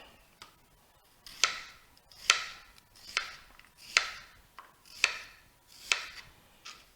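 A knife slicing an onion into half-moon strips on a cutting board, steady crisp chops falling roughly once a second, close and fairly quiet with no talk.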